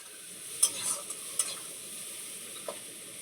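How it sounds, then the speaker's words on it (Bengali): Ground spice masala of cumin, coriander and Kashmiri chilli frying in oil for a Bengali bhola fish jhal, a steady soft hiss with a few spoon scrapes and taps close by. "এবার সব কিছু ভালোভাবে মিশিয়ে নিয়ে মিনিট খানেকের জন্য মশলাটাকে কষিয়ে নেব"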